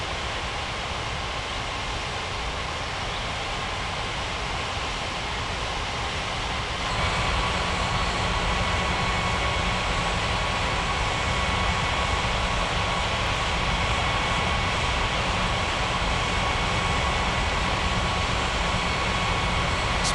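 An airliner taxis on the ground at a large international airport, its engines holding a steady, droning whine that swells noticeably louder partway through and stays constant, with no talking.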